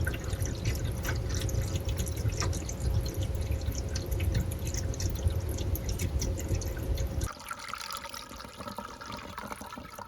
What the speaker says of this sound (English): you can hear it draining down.